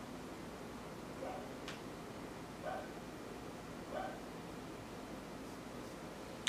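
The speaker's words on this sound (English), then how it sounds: "I can hear one of my dogs barking in their sleep." A sleeping dog lets out a few soft, muffled woofs and yips, spaced a second or two apart, faint against a quiet room hiss with no one talking.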